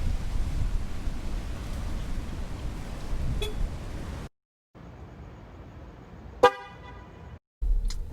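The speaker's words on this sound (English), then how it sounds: "When you lock your car, your horn will blow to confirm that you've locked the car." A 2020 Range Rover Sport sounds its horn to confirm locking, heard outdoors as a short, sharp chirp over steady wind noise, after an earlier faint blip and brief gaps of silence.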